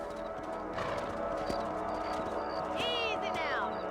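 Horse hooves clip-clopping at a steady pace in the Western video game Red Dead Redemption, a rhythmic run under game music and ambience, with a brief whinny-like rising call near the end and a voice speaking.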